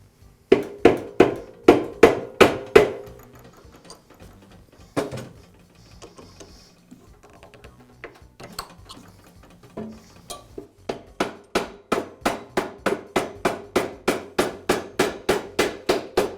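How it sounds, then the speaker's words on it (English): A punch is hammered to drive the pulley onto a DeWALT planer's cutter head shaft, with a quick run of sharp metallic hammer strikes, a few scattered taps, then a long steady series of even blows. "I'm going to place the punch in the center hole on the cutter head and use it to pry the pulley onto the shaft."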